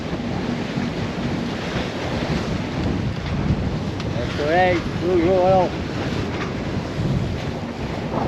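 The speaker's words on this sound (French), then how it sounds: "Incroyable le changement de sens de vent et de puissance" Wind roars steadily across the open sea aboard a sailboat, a broad rushing buffeting on the microphone with wave wash beneath, while someone talks briefly over it.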